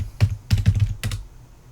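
A login typed on a computer keyboard while setting up a Raspberry Pi: several quick clicky keystrokes in short clusters, close and fairly loud, then a soft fade.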